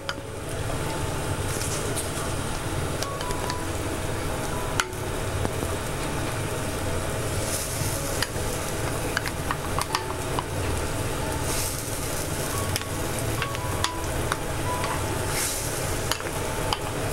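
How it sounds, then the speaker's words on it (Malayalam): King fish pieces going into a pot of boiling Kerala fish curry, a continuous bubbling and simmering hiss with faint clinks and stirring sounds over about seventeen seconds, no talking. "ഈ സമയം ഫിഷ് ഇട്ട് കൊടുക്കാം."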